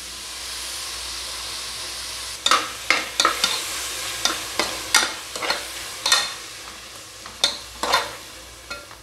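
Semiya biryani masala with tomato, coriander, mint and curd sizzles steadily in a pan while a spoon scrapes and stirs in repeated irregular strokes over the constant frying hiss, close and moderately loud.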